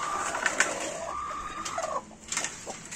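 Indian game fighting hens at a poultry breeding farm cluck and call in short bursts, fairly close but moderately quiet, with no talking over them.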